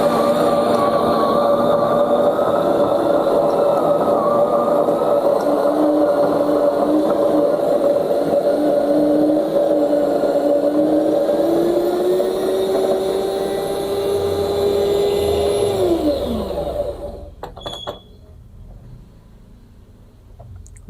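An FCM 5403E espresso machine's coffee grinder runs steadily on beans, a loud continuous motor whine with a rising pitch sweep before it winds down and stops near the end, leaving faint background noise.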